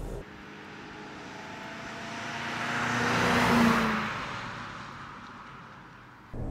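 A 1979 Mercedes 450 SE W116 with 84,000 km, driving by: a smooth engine and tire roar swelling steadily to a peak midway, then fading away, no talk.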